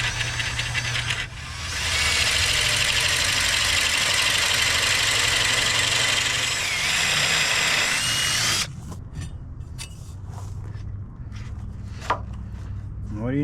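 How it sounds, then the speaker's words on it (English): A power drill whines loudly and steadily as it bores out a hole in metal during a shop repair for several seconds, then stops, leaving scattered clicks and handling noises. "we're going to drill out the hole in here"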